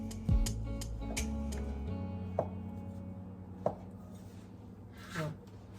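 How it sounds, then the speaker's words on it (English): A knife cuts food on a cutting mat with a few sparse, separate taps and light scrapes over a steady low hum in a home kitchen. "then you can just line it up on the mat and cut it to the desired length"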